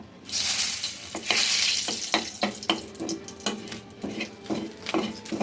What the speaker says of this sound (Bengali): এখন হচ্ছে এই যে কড়াইতে দেবো তেজপাতা